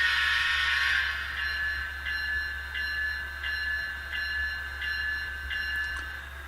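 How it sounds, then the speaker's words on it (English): A model train's horn whistle, triggered from an NCE wireless ProCab controller, sounds with one long electronic tone, then short repeated toots at a steady pace over a constant low hum. "I am going to press the horn whistle right now."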